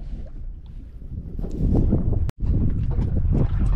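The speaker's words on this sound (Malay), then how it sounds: "Angin pun dah start kuat" Strong wind buffets the microphone in a steady, low roar while fishing outdoors, broken by a brief dropout midway before the gusting resumes.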